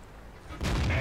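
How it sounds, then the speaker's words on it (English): A tank cannon in a tank video game fires a single loud, booming shot after a quiet lull, close and heavy, with no talk over it. "Now I've got time to fire a couple of shots."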